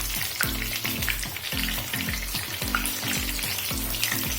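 Breadfruit bajji fry in hot oil with a continuous, close, crackling sizzle and a bubbling, rhythmic low churn throughout.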